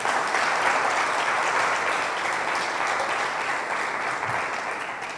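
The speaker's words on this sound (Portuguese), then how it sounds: "Vamos aplaudir o nosso Deus?" A church congregation applauds during a Portuguese-language sermon, a dense, steady wash of clapping that holds at an even level from start to finish with no voices above it.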